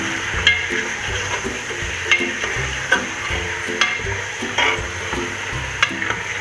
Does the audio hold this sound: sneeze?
no